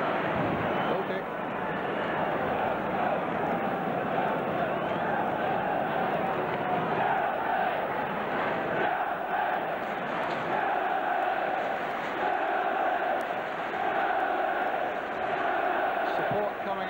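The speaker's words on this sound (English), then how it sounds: "Support coming up from this big Stamford Bridge crowd for the team in blue" A big football crowd roars steadily at Stamford Bridge during Chelsea v Liverpool, a dense distant wash of cheering that runs throughout under continuous commentary.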